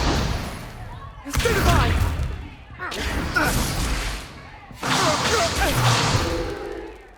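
Spell-casting effects from the Hogwarts Legacy video game as a Stupefy spell is cast during a duel: three loud broadband whooshing blasts with thuds, each lasting about a second and a half, with short gaps between them.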